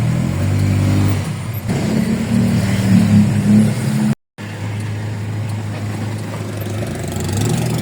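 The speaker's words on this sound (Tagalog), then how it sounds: "Traffic talaga rito." Road traffic with cars: a steady engine rumble and idling hum from nearby vehicles, rising at moments as one moves off, continuous apart from a brief dropout.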